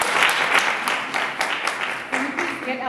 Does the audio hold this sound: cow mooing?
no